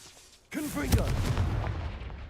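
A Confringo blasting spell fired in the Hogwarts Legacy video game, a sudden loud booming blast that bursts in after a brief quiet lead-in and rumbles on with crackling debris for about two seconds.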